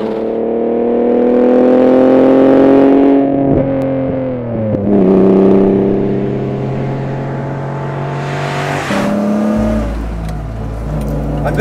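Loud, close racing car engines revving and droning with rising and falling pitch, several cars roaring together at a Le Mans-type race start before the sound cuts to a low rumble.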